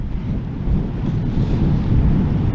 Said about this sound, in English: it's a lot windier than I thought it was going to be